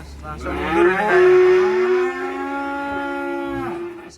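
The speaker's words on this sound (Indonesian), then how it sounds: "Ini sapi yang duduk tadi guys." A black sacrificial cow being unloaded from a livestock truck lets out one long, loud, drawn-out moo that swells and then holds before trailing off, close by and alone.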